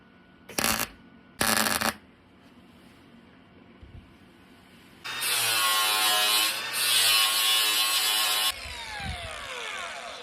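An angle grinder cuts away excess weld metal on a MIG-welded part, starting after two short sharp bursts with a loud steady whine and harsh grinding that runs several seconds, then dies away into scraping.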